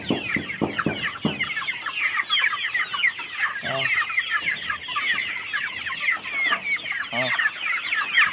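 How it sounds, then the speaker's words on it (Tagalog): Flock of chickens clucking and squawking nearby, a busy overlapping chatter of calls with a few louder sharp bursts, continuous throughout. "Ay, ating mga manok."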